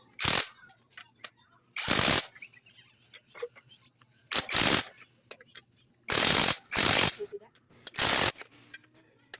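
A ratchet tightens the handlebar on a Honda TMX Alpha 125 motorcycle being assembled, with several short rapid bursts of clicking separated by pauses, close and fairly loud, while someone talks quietly between them.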